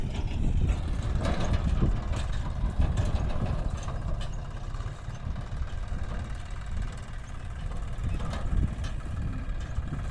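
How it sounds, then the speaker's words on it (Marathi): A tractor engine idles with a low, steady rumble nearby on a farm after the onion harvest, while people talk over it now and then. "आलाय ट्रॅक्टर"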